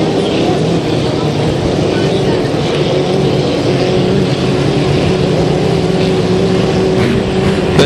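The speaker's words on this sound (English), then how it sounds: "And boat the Trimax 1 going by." A 1.5 litre class racing boat passes during a heat of a hydroplane regatta at North Tonawanda, its engine a steady loud drone against constant background noise, with an announcer's voice over it.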